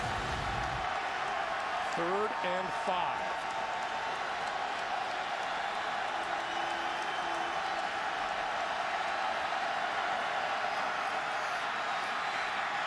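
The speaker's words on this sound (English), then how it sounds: "The remaining crowd here in Tennessee trying to get fired up for this crucial 3rd down." Football stadium crowd in Tennessee at an NFL game, Raiders at Titans, a broad steady roar and murmur of cheering from a distance, running continuously beneath a play-by-play commentator's voice.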